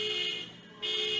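A buzzing electronic alarm sounds outside in a steady harsh tone, briefly dipping before resuming, fairly loud and alone without talk.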